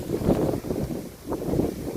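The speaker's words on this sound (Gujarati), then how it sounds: "જોઈ લો બાકી પવનની ધબધબાટી બોલે છે." Gusty wind from Cyclone Biparjoy buffets and rumbles against the microphone in uneven surges, loud and close, with no other clear sounds.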